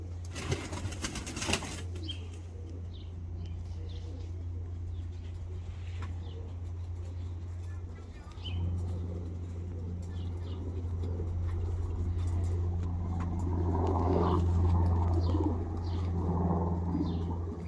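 Pigeons of the English Nun and Bukhara breeds, young 2020–2021 birds in a loft, give low steady cooing with a few wing flaps, over a continuous low hum that swells toward the end.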